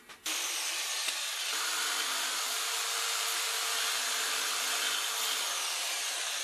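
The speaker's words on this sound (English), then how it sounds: "And I'll just do that with the jigsaw too." A jigsaw cutting sections of wood for a router fence support on a table saw; a loud, steady motor whine with a rasping blade buzz that starts abruptly and runs continuously at close range.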